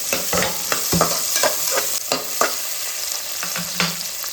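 Hot oil sizzling steadily in a pan with whole spices and onions for channa biryani, a constant close frying hiss with repeated scraping stirs of a utensil, no talking.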